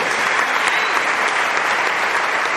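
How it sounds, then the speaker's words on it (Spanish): Steady, dense applause from a church congregation during a Holy Hour service, loud and continuous throughout with no pauses. "Démosle un aplauso al Señor por llamarnos"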